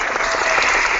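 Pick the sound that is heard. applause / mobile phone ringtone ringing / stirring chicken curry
applause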